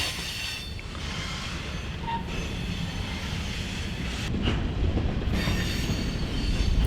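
A freight train rolls past in Northeast Alabama, its wheels squealing in high sustained tones over a steady rumble and rattle of cars that grows louder toward the end.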